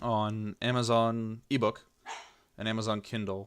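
A dog barks a few times indoors, mixed in with and between steady talking from a nearby person.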